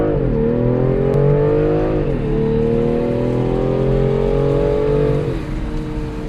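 A BMW M340i xDrive launches from a standstill with launch control on a rain-soaked road with standing water, its engine loud and close as it revs hard and climbs through upshifts, with brief dips between gears and no speech.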